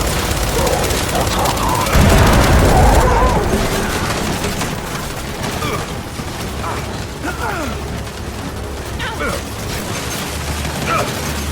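Turret gunfire in Gears 5 rattles in sustained, dense mechanical bursts, loudest early on and then continuing steadily, with voices talking over the shooting.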